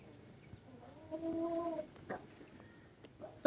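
An Aseel rooster gives a short, low clucking call, quiet and close, followed by a few soft scattered sounds.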